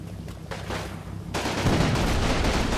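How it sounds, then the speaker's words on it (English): A line of troops firing in the Combat Mission: Fire and Rubble war game, Pomerania 1945, with dense overlapping rifle and machine-gun fire swelling into a loud, continuous fusillade. "Line firing to drive away the flak."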